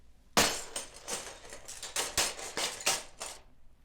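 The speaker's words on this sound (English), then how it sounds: "tumbled into the robbers' dining room with a terrible crash of glass" Glass breaks and crashes into a dining room in a fairy-tale setting. Sharp shattering bursts and clinking shards follow one another quickly and loudly, fading after a few seconds.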